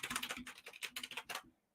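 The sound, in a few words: typing on a computer keyboard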